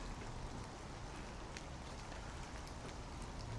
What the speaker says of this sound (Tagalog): Umuulan dito ngayon mga lods.